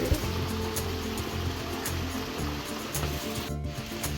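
A Colombian waterfall rushes in a dense, steady roar of falling water, close and continuous with faint splashy bursts throughout.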